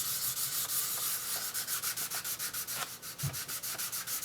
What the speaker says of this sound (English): You just sand until you don't need to sand anymore.